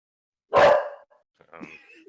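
A single dog gives one loud, sharp bark close by, followed by a quieter whimpering yip after a short pause.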